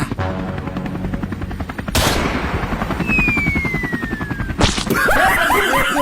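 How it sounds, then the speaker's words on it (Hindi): Loud rapid gunfire blasts aimed at a hovering helicopter, the bursts running continuously over a steady rotor drone and a rising whine, close and harsh, ending in a sharp crash-like burst. "लोखंडे मार गोली हेलीकॉप्टर में।"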